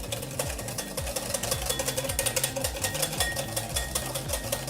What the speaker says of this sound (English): take it off the heat and give it a good whisk